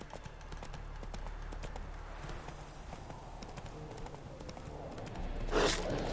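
Horse hooves of Roach, Geralt's mount in the video game The Witcher 3, clip-clop in a steady walking rhythm throughout, moderately close, with a louder burst near the end and faint talk in the background.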